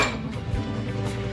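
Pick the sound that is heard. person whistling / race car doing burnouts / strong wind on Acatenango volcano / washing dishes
washing dishes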